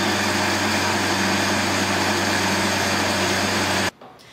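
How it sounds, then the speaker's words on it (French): A household blender runs with a loud, steady motorized whir and constant drone, then cuts off abruptly near the end. "et le mélangeur."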